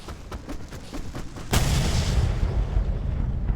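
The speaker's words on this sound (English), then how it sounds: "I like that I ended that with a flashbang perfectly." Flashbang detonating in the video game Alan Wake: a few faint taps and shots, then a sudden loud boom that swells into a sustained roaring rumble.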